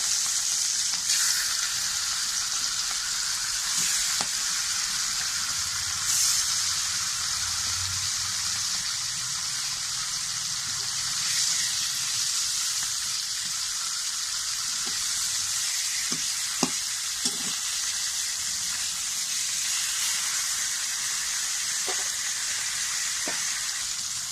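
Fish sizzles steadily in hot mustard oil in a karahi, a loud, continuous crackling hiss with a few sharp pops near the end, and no voices.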